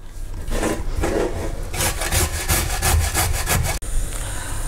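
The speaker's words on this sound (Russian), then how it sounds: "Морковку мне нравится натирать на мелкой терке." Carrot rubbed against a fine grater for vegetable soup, a steady rhythmic scraping with repeated strokes, fairly close and continuous, ending with a brief pause.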